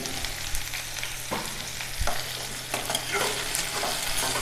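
Eggplant sautéing in a pan for a Tamil katharikkai poriyal, a steady close sizzle broken by a few sharp scrapes and knocks of the spatula against the pan, with no talk.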